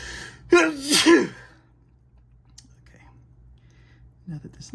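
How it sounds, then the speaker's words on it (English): A single sneeze bursts out near the microphone while someone is painting, followed by quiet room tone and a few faint clicks and small movements. "Now that the sneezing is done."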